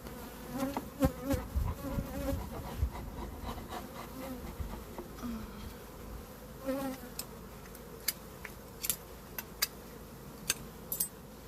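Honeybees buzz around an opened hive, a soft close hum with individual bees zipping past the listener, plus a few faint clicks and taps of hive tools near the end.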